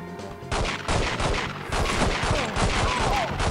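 Pistol fire in the video game 007 The World is Not Enough during a boat chase against many enemies, heard as a loud, continuous rapid burst of shots filling the whole stretch with no break.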